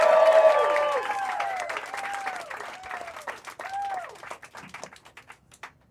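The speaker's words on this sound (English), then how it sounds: "Start clap right now for Diya Basrai" A stand-up comedy showcase crowd claps and cheers as a comedian is brought on, loud at first with whoops over the applause, then tapering into scattered claps.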